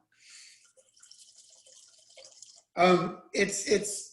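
A 2011 Vineyard Tab red wine pours into a glass in a soft, faint trickle lasting a couple of seconds, then someone speaks loudly nearby.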